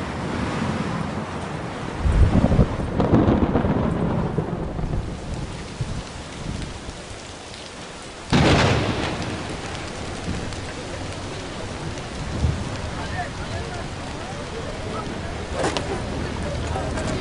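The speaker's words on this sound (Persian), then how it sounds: "راستی راستی داره بارون میاد." Steady rain pours down throughout, with a deep rumble of thunder rolling in near the start and a sharp crack mid-way, while people talk faintly underneath.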